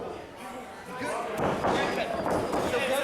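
A pro wrestler's elbow strike lands on an opponent in the ring, a dull slam and thud under lively play-by-play commentary and crowd noise.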